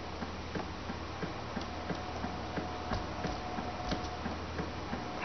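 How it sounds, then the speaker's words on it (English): Running footsteps in the Toontown video game sound as a quick, steady patter of light ticking steps, faint and even over a low background hum, with no talking. "I can hear the sound of me running."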